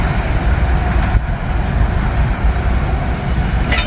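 A freight train rolls steadily past in Wyoming, a loud continuous rumble of wheels on rails with faint metallic squeals near the start and end.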